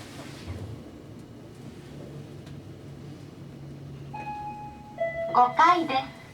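The old chime of a Toshiba see-through elevator at Fukuoka Mitsukoshi department store rings out near the end as a short run of bright electronic tones. Before it there is a quiet, hushed background and a faint hum.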